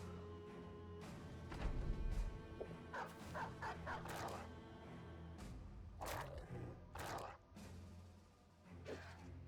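A war dog in the battle game Battle Brothers barks and yips in short scattered bursts amid combat clashes, fairly faint under game sound.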